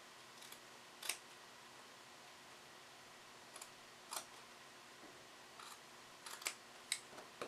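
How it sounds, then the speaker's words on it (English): Scissors snip a fabric fringe piece for sewn booties in scattered, crisp clicks, single and in quick pairs, close but faint over a quiet room. "just clipping the bottom so that I know approximately how wide to cut the remaining fringe"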